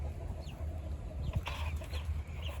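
Backyard chickens cluck softly over a steady low hum, with a few brief higher calls from a rooster among the flock scattered across the moment at moderate distance.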